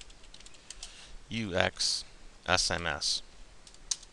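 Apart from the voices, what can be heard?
typing a command on a computer keyboard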